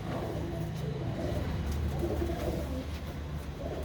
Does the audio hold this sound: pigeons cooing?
yes